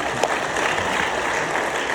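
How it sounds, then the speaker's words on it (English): At an AA speaker meeting, the audience gives a brief round of applause: a short burst of steady, crowded clapping with no talk over it. "We're supposed to give a round of applause now"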